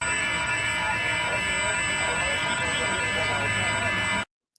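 A loud electronic alarm buzzes continuously with a steady, harsh tone, then cuts off abruptly near the end.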